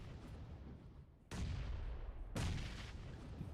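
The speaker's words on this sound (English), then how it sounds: "They did get a drop there with the grenades" Grenade explosions in PUBG Mobile come as two sharp, heavy blasts about a second apart. Each is followed by a lingering rumble over quiet background noise.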